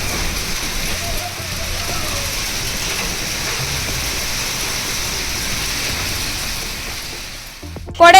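Heavy rain driven by strong cyclonic wind pours down in Theni, Tamil Nadu, as a steady, loud, broadband roar of rainfall that barely changes. Near the end a brief louder burst cuts in.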